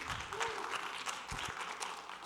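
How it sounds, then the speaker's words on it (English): A conference audience at a WordPress event in Miami applauds to welcome a speaker to the stage, a soft, fairly distant patter of clapping with a few louder claps. "If you could give a nice round of applause to welcome him to our stage."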